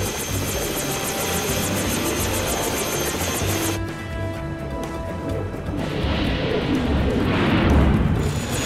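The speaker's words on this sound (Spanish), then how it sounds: "¿Qué fue eso? ¡Ruidos del motor!" Cartoon helicopter rotor and engine noise, a loud close rhythmic chopping over a high whine that breaks off midway, then continues as a rougher rumbling drone with a clatter.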